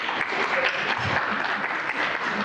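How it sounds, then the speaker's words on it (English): Audience applause at an arts panel event, a short, dense and even stretch of many hands clapping at moderate loudness, with no talk over it. "Feel free to clap if you want to."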